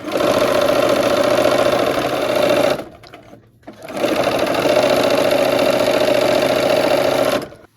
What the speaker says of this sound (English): We are going to sew the pinwheel blocks to the end of these borders.